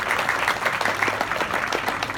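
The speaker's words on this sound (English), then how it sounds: "please give those sponsors a round of applause" An audience at an opening-day event applauds the sponsors, with a steady wash of many hands clapping at moderate loudness for a couple of seconds.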